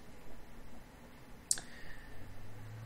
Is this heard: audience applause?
no